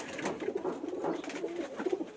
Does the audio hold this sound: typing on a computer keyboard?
no